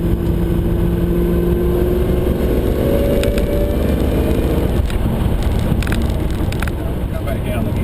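A 650 rwhp Holden Senator engine revs loudly and close by as the car pulls through the gears, the pitch rising and dropping with each shift while a steady drone holds throughout.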